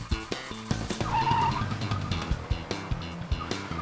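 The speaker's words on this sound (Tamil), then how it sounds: "ஜீப்பை நானே வேகமா ஓட்டிட்டு போறேன்." A cartoon jeep tears away at speed with skidding, squealing tires and a revving engine, backed by sharp rhythmic knocks and hits, loud and close with no talking.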